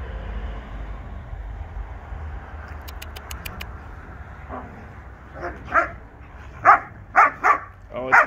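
A German Shepherd and a Husky wrestle, with play growls and grumbles building into a series of loud, sharp barks and yips toward the end, close by.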